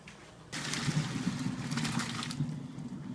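Cooking water from boiled fettuccine drains off the pasta in a steady wash of pouring and trickling that starts abruptly and carries on through the rest of the moment, close and fairly loud.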